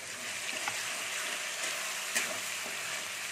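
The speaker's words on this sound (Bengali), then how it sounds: "দেখুন বাদামটা একটু ভাজতে হবে।" Ground peanut paste frying in hot oil with bay leaf and dried red chilies, a steady soft sizzle with faint stirring scrapes, close and fairly quiet.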